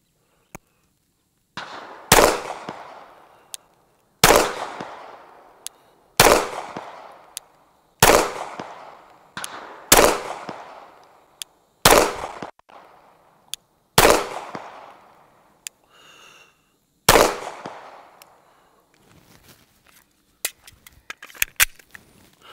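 A Glock 45 pistol fired at 25 yards: eight sharp, loud shots spaced about two seconds apart, each ringing out briefly. A few faint clicks and handling sounds follow.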